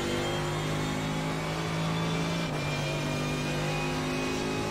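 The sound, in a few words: Mercedes GT3 race car engine at Monza, iRacing video game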